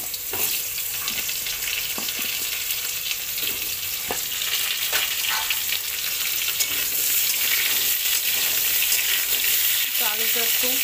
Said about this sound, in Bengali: আলুগুলো একটু ভেজে নেব লাল করে।